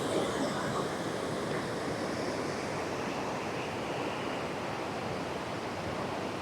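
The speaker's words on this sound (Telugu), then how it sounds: "చూడండి ఎలా ఉందో వాటర్ ఫాల్" A steady roar of falling water at the Valasampeta waterfall fills the clip, dense and unbroken, loud and close with no other sounds standing out.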